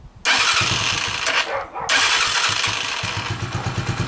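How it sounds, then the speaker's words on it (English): A Haotian Vixon motorcycle engine runs loudly and close by, cuts out briefly, then roars again with a steady throbbing idle to the end; no one speaks over it. "Let's just turn the engine off. I'll use the stop switch."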